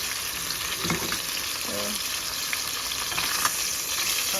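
Potatoes fry in a pan with a continuous hiss and crackle that holds steady throughout, with a few faint scrapes of stirring breaking through.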